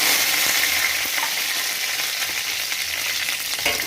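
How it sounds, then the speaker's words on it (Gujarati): Mustard seeds and curry leaves sizzling in hot oil for a Gujarati patra dish, a loud, close, continuous frying hiss with scattered popping crackles and faint stirring. "1 ચમચી આપણે રાઈ નાખી દઈશું. મીઠી લીમડીના પાન લીધા છે મેં અહીંયા આગળ એ નાખી દઈશું"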